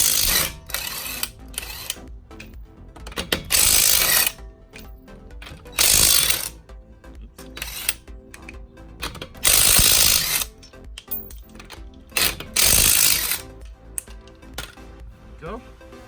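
A power tool or impact wrench rattles loose the 19 mm lug nuts on a Subaru BRZ/Scion FR-S wheel in a garage, giving repeated loud mechanical bursts of about a second each between quieter handling clatter.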